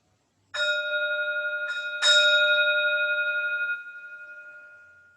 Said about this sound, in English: So the sound of the bell takes us out of the meditation